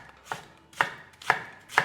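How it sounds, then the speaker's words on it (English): A knife chops Chinese cabbage finely on a cutting board, four crisp, evenly spaced thuds about half a second apart, close and clear with nothing else heard. "This is Chinese cabbage, so we will cut it really"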